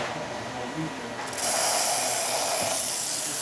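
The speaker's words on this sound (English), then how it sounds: "Nice strong dry steam." An ECM espresso machine's steam wand lets out a steady, loud broadband hiss of strong dry steam, starting partway through and continuing to the end, following a quieter mechanical hum.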